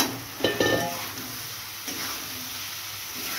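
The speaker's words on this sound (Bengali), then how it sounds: "মশলা আমার কষানো হয়ে গেছে, এবার আমি দিয়ে দেবো পটলগুলো" Fried pointed gourd being stirred into cooked spices in a pan, a few metallic clinks and scrapes of the spoon near the start over a soft, steady sizzle, with no talking.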